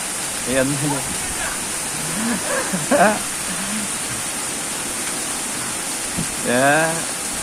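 Steady heavy rain hisses throughout, with a person talking over it at moderate volume.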